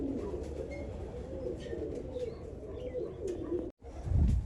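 Pigeons of the Meerab bloodline coo in low, steady, rolling calls throughout, moderately close, with a brief dropout near the end and a louder thump just after.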